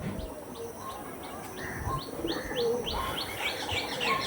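Andhra breed pigeons kept for sale coo and chirp in a string of short, repeated calls over a steady low background hum, moderately close.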